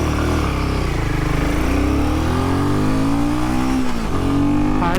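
A Royal Enfield Himalayan 450 motorcycle accelerates hard from 0 to 100, its engine note climbing steadily through gear changes, loud and near, with no talk.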